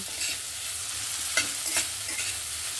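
Food fries in a pan with a continuous broad sizzle while a spoon stirs and scrapes it, giving a few louder scraping bursts near the middle, close and without speech.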